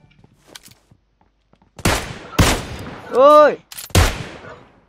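Gunfire in the mobile battle-royale game PUBG Lite, with a Beryl M762 rifle and Kar98K sniper in use: a few sharp, loud shots spaced across a couple of seconds, with a brief electronic game tone between them and a short spoken exclamation.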